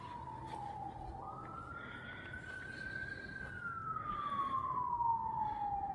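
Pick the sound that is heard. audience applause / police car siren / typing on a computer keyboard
police car siren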